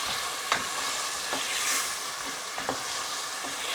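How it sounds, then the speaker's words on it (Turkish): Potatoes sautéing in a pot for a Turkish olive-oil vegetable stew, a steady loud sizzle with occasional soft scrapes of stirring, close up and with no talking. "Biraz da patateslerimizi şöyle bir kavuralım."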